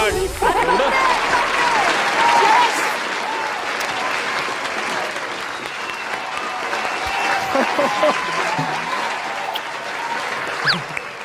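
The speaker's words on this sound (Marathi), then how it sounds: "जोरदार टाळ्या" Loud, sustained audience applause fills an award-show hall after a best comedy actor award is announced, steady clapping with crowd noise throughout, swelling slightly in places.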